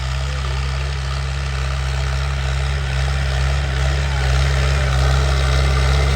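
A YTO tractor engine runs in second gear, putting out a loud, steady low rumble that holds even throughout with no pauses.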